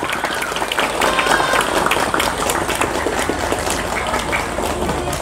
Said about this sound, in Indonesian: Kalau begitu tepuk tangan dulu untuk Miftahus Sholihin.